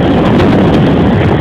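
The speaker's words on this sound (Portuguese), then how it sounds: "o ventilador faz uma barulheira do caralho" A loud, steady roar of a powerful fan running inside a truck cab, a continuous broadband whoosh that holds level throughout with no breaks.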